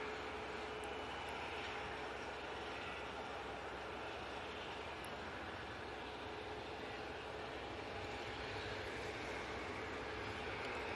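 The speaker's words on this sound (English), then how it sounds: "It's the Easyjet coming from Paris Charles de Gaulle Airport. Oh, it's taking full length as well." An EasyJet airliner in from Paris Charles de Gaulle runs up to full power for a full-length takeoff, a steady, fairly faint engine roar that holds level throughout, heard from a distance with no voices.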